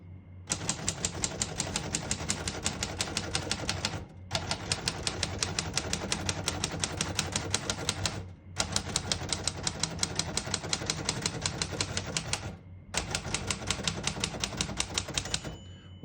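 A 1935 Royal A Model portable typewriter typed steadily, rapid clacking keystrokes in four long runs separated by short pauses, close and clear with no speech.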